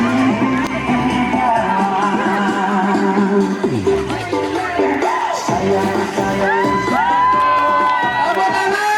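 A lively crowd at an Indonesian Independence Day school ceremony cheers, applauds and shouts over music, with children's voices rising in whoops and excited calls throughout.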